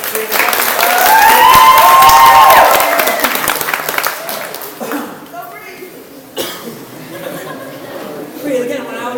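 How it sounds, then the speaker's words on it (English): Audience applause at a college magic show, a burst of clapping mixed with coughs and chuckles that fades after a few seconds into quieter crowd noise. "Again, round of applause."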